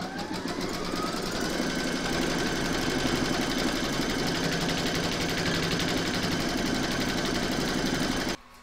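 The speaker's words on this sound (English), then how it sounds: "Pop your hoop into your machine and stitch round number two to secure it." An embroidery machine stitches batting onto a placemat held in its hoop, a loud rapid mechanical chatter that runs steadily before stopping abruptly.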